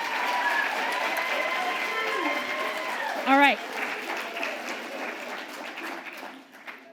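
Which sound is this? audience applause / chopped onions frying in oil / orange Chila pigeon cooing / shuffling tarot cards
audience applause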